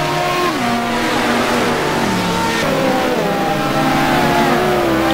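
Porsche GT2 race cars run nose to tail at Sonoma Raceway, several engines loud and close, their pitch climbing and dropping through the gears as they pass in a steady, continuous roar.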